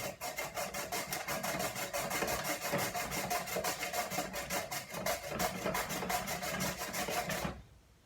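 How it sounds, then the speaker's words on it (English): Sweet potato pushed back and forth over a handheld veggie strip maker, producing a fast, steady series of close scraping, rasping strokes that stop abruptly at the end. "all you do is just glide it right over this veggie strip maker"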